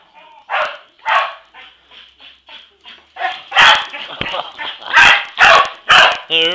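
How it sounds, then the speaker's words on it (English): An Australian cattle dog barks repeatedly and loudly at close range, the barks growing stronger and more frequent, with a few yips and whines mixed in. "He's everywhere, this dog."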